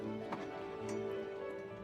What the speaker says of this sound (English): Having found a suitable carriage, we clattered down soporific streets and out into the countryside